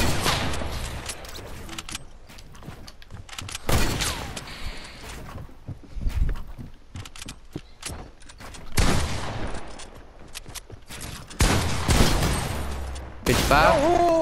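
Gunfire from a shooter video game, with shotgun blasts and sniper shots ringing out in loud, scattered bursts and rapid volleys over a busy background of game noise.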